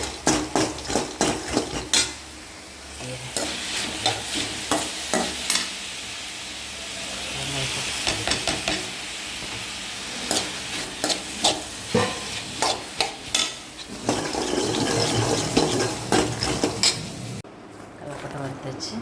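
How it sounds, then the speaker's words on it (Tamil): Curry leaves roasting in a pan, a soft sizzle under repeated sharp scrapes and clinks of a utensil against metal, close by, with someone talking at points. "கருவேப்பிலை வறுத்தாச்சு."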